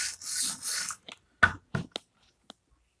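An Emerson Karambit Tanto knife with a chisel grind is sharpened by hand: two long, close rasping strokes, then a few short, lighter scrapes and taps with quiet gaps between them.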